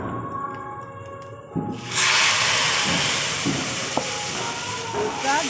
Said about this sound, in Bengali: এবারে আমি এই দুধ ঢাললাম